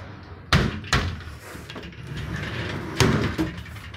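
A closet door in a hotel room in Częstochowa, Poland, opens and closes with several sharp knocks and bumps spread over a few seconds against a quiet room.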